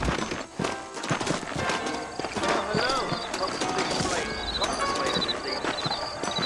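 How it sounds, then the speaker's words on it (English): Saddled horses in the Western video game Red Dead Redemption trot with a quick, close clip-clop of hooves, mixed with game voices and other ambient sound. "I got the horses saddled up and ready out front."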